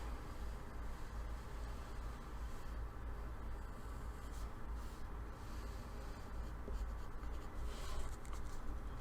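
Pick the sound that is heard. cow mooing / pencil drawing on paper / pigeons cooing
pencil drawing on paper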